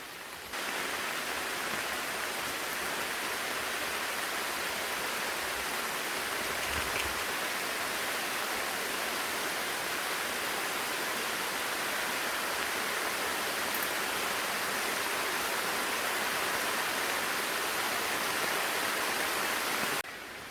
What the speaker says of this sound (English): Oh, downpour.